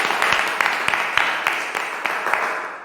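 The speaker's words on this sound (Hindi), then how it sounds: "आइए हम वचन में जाने से पहले परमेश्वर का जोरदार तालियों से स्वागत करते हैं" A worshipping congregation claps together in a steady, rhythmic beat, about three claps per second. The sound is moderately loud and grows slightly softer toward the end.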